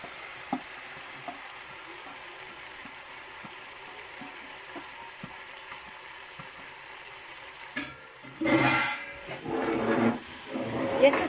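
Sofrito frying in a pot for a chicken gizzard stew: a quiet, faint background gives way near the end to loud, irregular bursts of sizzling and stirring, close by.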